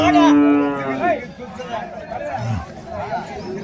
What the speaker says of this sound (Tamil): ஒரு பசு மாடு ஒன்று எடுத்துகிட்டு வந்திருக்காங்க, நாட்டு பசு மாடு.